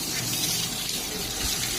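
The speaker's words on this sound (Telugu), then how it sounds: "చెట్లకన్నిటికీ వాటర్ పట్టేసుకుంటాను." Water poured over garden plants makes a short, continuous rush of splashing flow, steady and fairly close, with no talking.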